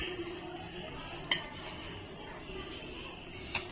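A spoon adds a lavang latika filling of wheat flour and jaggery, with two faint, sharp utensil clinks spaced a couple of seconds apart over a quiet background.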